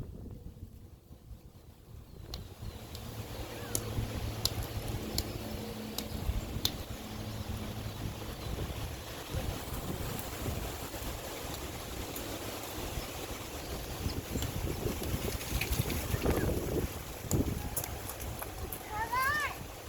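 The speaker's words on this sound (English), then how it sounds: "So windy." Wind gusts buffet the microphone in a steady low roar, with people talking and some clattering underneath.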